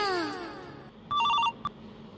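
A telephone rings in a home, one short electronic burst of trilling tones followed by a brief chirp, fairly quiet and with no talk over it.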